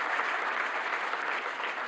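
Dense, steady applause from a conference audience at the closing plenary of the EOSC Symposium 2024, a continuous wash of many hands clapping at even loudness with no voices on top.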